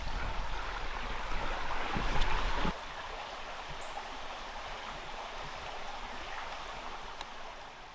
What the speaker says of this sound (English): which is the stream I've been following since the lane, this is the Angiddy River